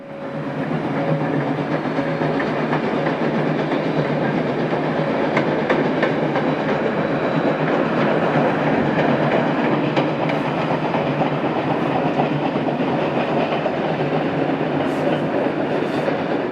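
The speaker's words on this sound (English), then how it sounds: "Then the train crossed over the creek once again." A train pulled by a steam engine rumbles past continuously crossing a creek in rural New Jersey, a loud steady roar of wheels and rails with faint clicking, lasting throughout.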